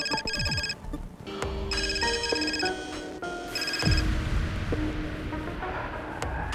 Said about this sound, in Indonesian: Ngapain Pak Raymond pagi-pagi gini ada telepon ya?